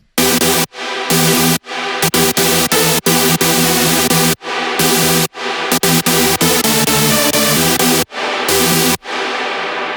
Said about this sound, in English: They're like really big super saws